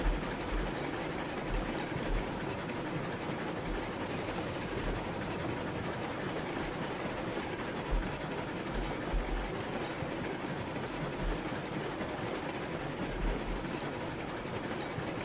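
Train cars rolling through an old train yard in the RailRoads Online video game, a steady continuous rumble with faint rhythmic clicks of wheels over rail joints, fairly close and unbroken throughout.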